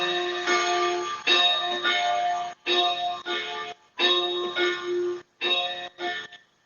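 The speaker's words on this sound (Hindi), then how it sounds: "घंटा तो बहुत अच्छा है" A bell rings close and loud, struck about six times in a steady rhythm, each stroke a bright ringing tone that sustains until the next one.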